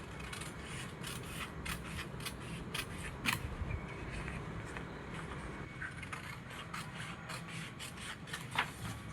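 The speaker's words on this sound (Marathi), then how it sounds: "हा अर्धा इंचाचा भाग आपल्याला कापून टाकायचा आहे" Scissors snip steadily through a paper pattern for a size 38 katori blouse. The cuts come as faint, close, repeated rasping strokes with no speech.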